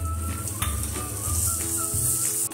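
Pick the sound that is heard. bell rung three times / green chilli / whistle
green chilli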